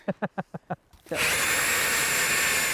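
Five short rhythmic thumps come first, then a power auger starts drilling a hole in ice for ice fishing with a loud, close, steady grinding whine that continues to the end.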